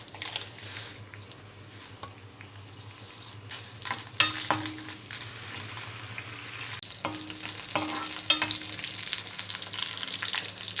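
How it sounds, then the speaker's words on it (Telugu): Dried red chillies sizzle in hot oil in a pan on the stove, a steady crackling fry with occasional scrapes and clinks of stirring, close and continuous with no voices. "ఆయిల్ వేడైన తర్వాత ఎండుమిరపకాయల్ని ఫ్రై చేసుకోవాలి."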